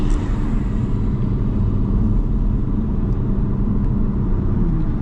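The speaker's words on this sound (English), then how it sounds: "A little bit of exhaust noise here." A steady, loud low rumble of a supercar's engine and exhaust droning continuously from inside the vehicle, with no pauses.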